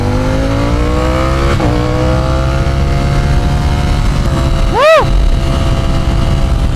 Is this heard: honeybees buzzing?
no